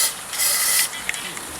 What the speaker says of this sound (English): I'm just gonna spray it all around in here.